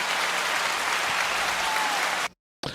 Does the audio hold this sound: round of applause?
yes